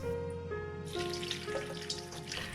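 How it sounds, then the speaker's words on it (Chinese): Cauliflower florets are washed by hand in a basin of salted water. There is soft close splashing and swishing, with brief rippling bursts of water throughout. "加一盆清水，用手稍微清洗一下"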